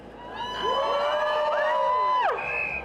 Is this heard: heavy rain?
no